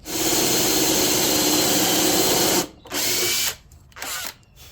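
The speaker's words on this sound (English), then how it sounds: "So we're going to drill these with the dowel center driller deal." A power drill whirs continuously at close range for a few seconds, drilling dowel holes for a cabinet base, then runs in two shorter bursts with brief pauses between them.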